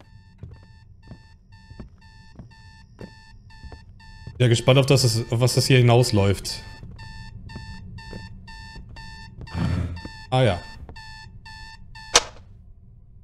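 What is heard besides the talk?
alarm clock ringing in a horror video game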